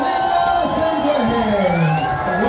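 A festival crowd at Brasiervil 2024 cheers and whoops, with a voice on the mic over the noise in a continuous, lively roar.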